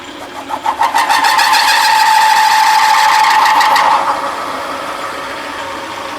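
A spring cut-off tool slicing at 800 RPM gives a loud, steady metallic screech with a pulsing ring, holding strong for about four seconds before dropping to a quieter machine hum once the blade compresses.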